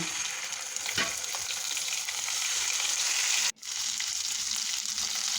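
Katla fish fries in a pan of hot oil with a loud, even sizzling hiss, a brief scrape near the start and a momentary break midway.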